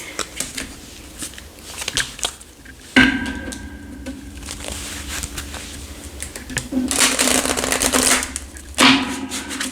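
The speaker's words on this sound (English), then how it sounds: "let me pull some of these because Spirit drew my attention to these romance angel cards" Romance angel cards are pulled and shuffled, producing quick papery flicks and riffles in bursts, close by, with a voice talking between the shuffles.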